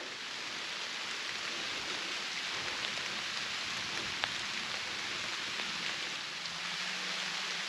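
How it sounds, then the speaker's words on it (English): Steady light rain patters evenly on surfaces nearby, a soft continuous hiss with occasional distinct drops, no voices. "The rain's pretty light at this point, which is nice."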